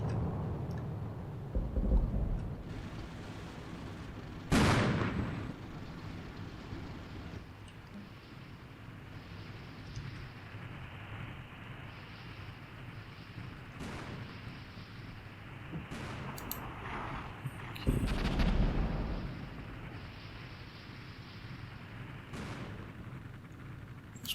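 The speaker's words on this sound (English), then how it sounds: "Cluster bombs." Cluster bombs burst in the Armored Brigade war game during a Soviet assault on US forces: a few heavy, booming blasts spaced seconds apart, with lighter pops and rumbling battlefield noise between them.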